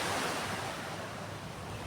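Sea waves rolling onto the beach at Boracay, a steady broadband wash of surf with a touch of wind noise, continuous and fairly loud with no talking.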